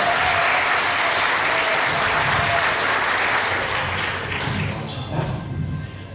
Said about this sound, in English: Give Carol a big round of applause